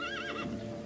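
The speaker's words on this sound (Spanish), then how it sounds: "¿Sabes montar a caballo, Ekim?" A horse gives one short, close neigh with a wavering high whinny that falls away into low snorting, and faint hoof clops sit underneath.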